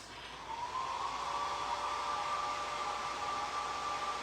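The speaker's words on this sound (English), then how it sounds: "my blow dryer." A blow dryer used for a home Easter craft switches on and runs steadily with a loud whooshing airflow and a constant whining motor tone, heard alone.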